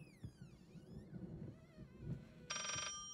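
A telephone in the horror video game Layers of Fear rings with a bright, buzzing electronic trill that bursts in near the end, loud over a low, murky game ambience with earlier warbling tones.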